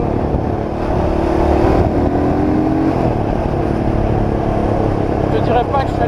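Engine of a quad bike built as a replica of the GTA V Blazer Street, idling and revving up in a steady, close, continuous drone with some talk over it.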